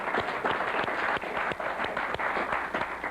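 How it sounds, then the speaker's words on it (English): A studio audience at a late-night talk show claps continuously, a dense, fairly loud wash of clapping that holds steady for a few seconds. "Give yourselves a round of applause."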